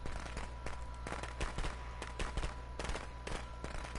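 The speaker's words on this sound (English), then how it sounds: "fireworks, totally." Rapid crackling bursts of fireworks going off in the Friday the 13th video game, a dense string of sharp pops and bangs over steady background game ambience with no talk.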